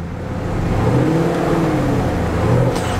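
A 2017 Chevrolet Camaro SS V8 revs while parked at a dealership, its engine rising to a sustained loud roar and holding, then easing slightly near the end, close up with no talk.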